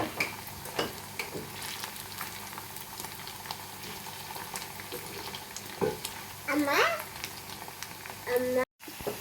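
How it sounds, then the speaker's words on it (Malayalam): Small cauliflower pieces deep fry in oil with a steady bubbling crackle, broken by occasional clinks of a utensil stirring them in the pan and a short burst of background noise near the end. "അത് കഴിഞ്ഞിട്ട് എണ്ണയിൽ ഫ്രൈ ചെയ്തിട്ടെടുക്കുവാണ്. പതിയെ ഇടയ്ക്കൊന്ന് ഇളക്കി കൊടുക്കുക."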